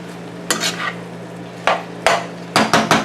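Shaved meat for Philly cheese steak frying in a pan, chopped apart as it is turned: a low steady sizzle under sharp, irregular scraping and clacking strokes of the utensil, several in quick bursts.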